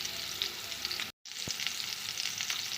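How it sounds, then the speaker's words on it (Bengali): Salted potatoes frying in a pan, a dense, steady sizzle close by, briefly cut off for a moment and then resuming, with a single soft knock just after, no talk. "একইভাবে আলুগুলোকেও ভেজে নেব।"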